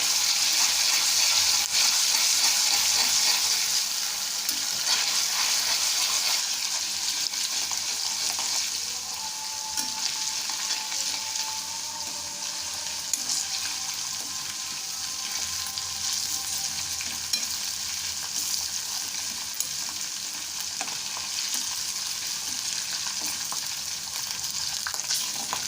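Ginger garlic paste sizzles and fries in oil in a kadai, a steady close hiss and crackle with faint stirring throughout, no voices.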